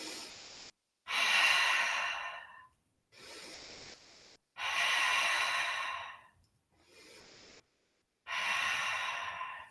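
Slow deliberate breaths from a yoga instructor, long airy inhales and exhales alternating in a steady rhythm with short silent gaps, close and clear with no talking.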